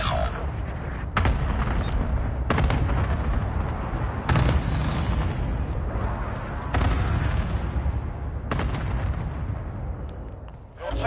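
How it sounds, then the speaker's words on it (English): Precision airstrike explosions in the Call of Duty Warzone video game, a sustained barrage of heavy booms and blasts landing every second or two, loud and rumbling throughout. "Friendly precision airstrike inbound."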